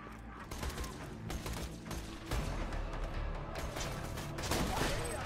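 Shotgun blasts in the video game Borderlands 2 come as dense, loud bursts of gunfire layered over constant game noise and a speaking voice, with heavier booms near the start and again toward the end.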